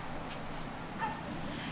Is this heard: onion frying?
no